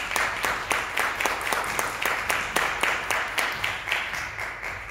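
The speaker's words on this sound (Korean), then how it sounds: "큰 박수로 모시겠습니다" Seminar audience applauding to welcome a speaker to the stage, a steady, even wash of many hands clapping in a room, sustained throughout at moderate volume.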